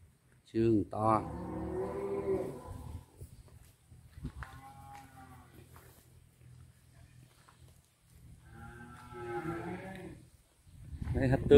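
Cattle for sale low out in loud, drawn-out moos close by, one near the start and another toward the end, while someone talks between the calls.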